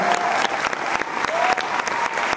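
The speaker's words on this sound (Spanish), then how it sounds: "Por favor, la señora Norma Lazareno, un fuerte aplauso." Crowd applause at the premiere of Ghost El Musical, dense continuous clapping from an audience, loud and close, with no voices over it.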